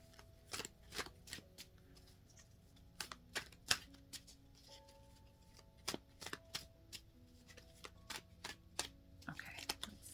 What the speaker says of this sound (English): let me just shuffle these up a little bit